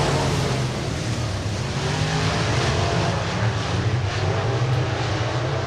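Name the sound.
race cars on oval speedway during heat race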